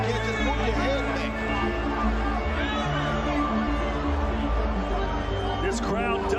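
A boxing crowd of 70,000 at Anthony Joshua vs Oleksandr Usyk holds a steady, low murmur and babble that fills the arena, while a commentator talks over it.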